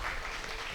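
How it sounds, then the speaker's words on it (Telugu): An audience at a three-day meditation program at Pyramid Jethavanam claps together, a steady dense wash of applause that is fairly faint and distant. "గట్టిగా క్లాప్స్ కొట్టుకుందాం."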